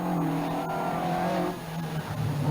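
A 2-litre Ford Escort rally car at the 1985 Killarney Rally of the Lakes roars past with a loud, steady engine drone that dips briefly then picks up again, with no voices.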